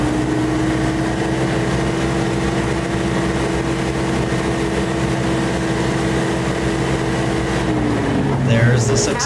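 Old 70-year-old truck engine drones steadily and loudly at low pitch, then near the end the engine note drops and shifts as the truck changes from second to third gear.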